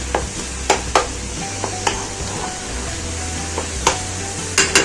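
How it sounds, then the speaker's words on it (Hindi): Chopped onions and tomatoes sauté in a karahi on full flame, with a low steady sizzle and repeated sharp scrapes and knocks of a spoon against the pan at irregular intervals. "प्याज के साथ टमाटर की हमने बहुत अच्छे से भुनाई करनी है।"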